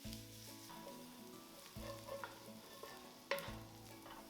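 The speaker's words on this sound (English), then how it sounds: "Cook the onions for at least 6 to 8 minutes, stirring frequently until they are soft and golden." Onions sizzle in a pot while being stirred, a soft steady frying hiss broken by a few scraping stirs of a utensil, faint and close with no voices.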